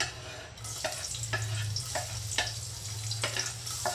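Chopped garlic and onion fry in a hot pan with a continuous close sizzle, broken by light spatula scrapes and taps, under a faint low hum and with no voices.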